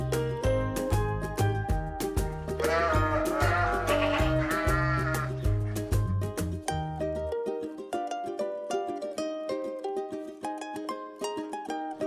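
Sheep on an animal farm bleat repeatedly in wavering, drawn-out cries over a steady tonal background, close and fairly loud, with no one talking.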